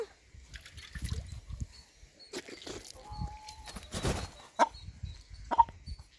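Short clucks and a few sharp calls from a rooster suffering heatstroke in summer, scattered over a few seconds with quiet gaps and faint rustling.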